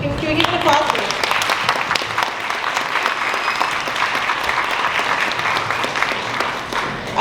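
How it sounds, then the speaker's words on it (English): Loud, lively applause from a dinner crowd at a student Carnaval event, with dense clapping over cheers and voices mixed in, steady to the end. "So can we give it an applause,"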